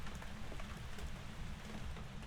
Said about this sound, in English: I can't even hear myself speak with the rain going on.